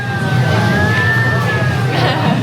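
A siren sound effect in a tiki bar wails steadily in a long rising and falling tone over a loud, busy background din.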